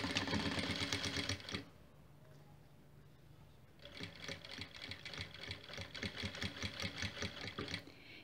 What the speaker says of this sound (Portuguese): E a minha costura vai até onde eu iniciei anteriormente, finalizando com retrocesso também.